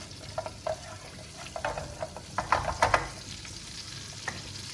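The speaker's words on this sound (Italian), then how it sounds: "il prezzemolo, l'aglio e il peperoncino e facciamo soffriggere finché l'aglio sarà bello dorato." Parsley, garlic and chili pepper fry gently in olive oil, giving soft, fairly quiet crackling and sizzling that comes in irregular bursts, with occasional stirring, and no voices.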